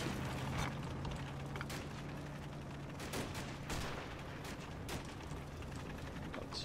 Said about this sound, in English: Guys in that building are just getting machine gunned.